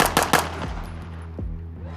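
Staccato pistols fired in a shooting drill: two close, sharp shots at the start with loud echoing tails, then fainter pops and reverberation fading away.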